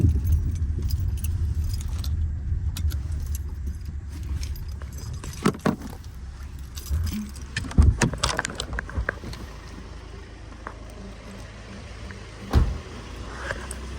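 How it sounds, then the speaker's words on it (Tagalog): Keys jangle at a garage door, several metallic clinks and rattles scattered across the clip, close by, with a low ambient rumble underneath. "Buksan natin sa susi."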